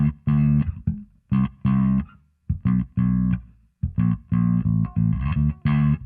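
Bass guitar played through a Vintage Deluxe pedal, phrased as a run of short plucked notes and brief riffs with gaps between them, carrying a thick, gritty overdriven tone, close and solo.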